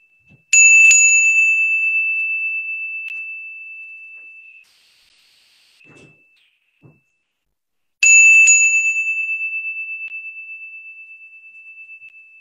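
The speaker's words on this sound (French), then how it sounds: "Sonner la cloche de Bali. Oui, une belle cloche de prêtre." A Balinese priest's bell rings out twice, each strike a bright, sustained metallic tone that slowly fades over several seconds, separated by a quiet gap with faint soft sounds; no one speaks.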